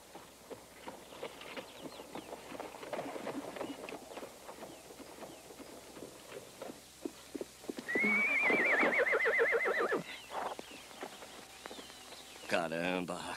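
A horse in an old Western setting neighs loudly in a long, shaky whinny near the middle, with hoof clip-clops and scattered footsteps before it and people talking around.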